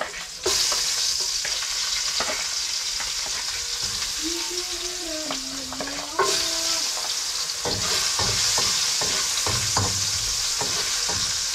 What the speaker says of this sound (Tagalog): Kaya igigisa na natin ang bawang. Sabay na natin ang sibuyas.